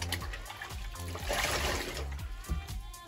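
Running water splashes steadily during the washing of a human hair full lace wig, a continuous close trickle and splatter with a brief louder splash near the end.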